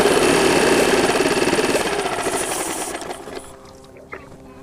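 A small outboard boat engine runs loud and rattling while being winterized, then its pitch and volume drop as it winds down toward idle, with faint clinks near the end.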